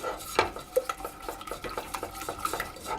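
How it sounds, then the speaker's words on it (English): Egg yolks whisked together in a pan with quick, even strokes, the whisk tapping and scraping the metal in a steady rhythm with a few sharper clinks, close and moderately loud with no talking. "I'm going to put those into a pan and I'm just going to whisk those together"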